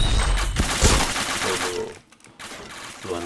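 Gunfire in a live-streamed shooter game crackles in rapid automatic bursts for most of the moment, dense and loud, drops briefly to near quiet, then resumes more faintly, with a voice murmuring in the background.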